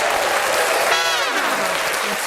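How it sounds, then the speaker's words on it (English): Canned applause played from a soundboard button during a podcast, a loud dense burst of crowd clapping and cheering with a sweeping warbling tone cutting in partway through. "Let's give her some applause."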